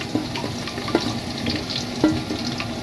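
Onions tossed into hot oil with cumin in a pan, giving a steady, close sizzle and crackle of frying with a few soft clinks and stirring taps, and no talking.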